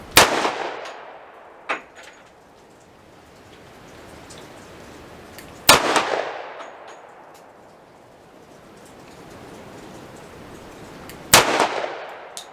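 Three sharp gunshots from an M&P 2.0 10mm pistol fitted with a Swampfox Justice sight, fired from a bench at a range. They come roughly five to six seconds apart, each a loud crack with a decaying echo tail and a faint quieter clank between the first two.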